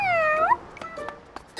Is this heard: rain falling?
no